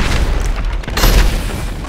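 A rocket blast in a first-person shooter video game, a loud low boom with broad crackle that swells near the end of a short burst of continuous game noise, no speech.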